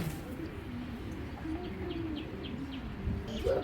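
Giribaz pigeons cooing, soft low repeated coos from nearby birds alongside a few faint chirps and light background noise.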